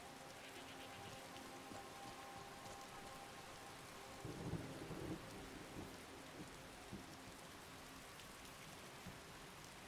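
Rain and thunder in the video game Skyrim, a steady hiss of rainfall with a rolling rumble of thunder swelling midway, faint and distant with no talking.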